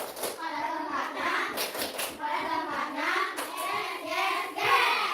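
Young schoolchildren chanting in unison while clapping hands in rhythmic bursts during a classroom clap chant, voices and claps close and lively, with claps falling in regular groups between the sung words.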